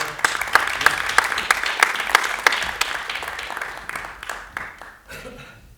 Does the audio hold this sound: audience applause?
yes